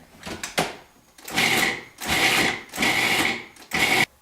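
A food processor pulsing spinach pesto made with nuts and Parmesan: four or five short whirring bursts with brief pauses between them, close and fairly loud, with no talk.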